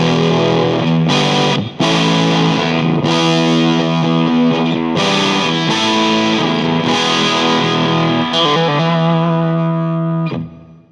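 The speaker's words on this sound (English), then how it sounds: "here's some different tones you can get with the Windmiller pedal" Electric guitar played through a Windmiller preamp pedal set for a tight tone with the low cut engaged, ringing sustained chords and notes with brief pauses, loud and alone, the final chord decaying to silence.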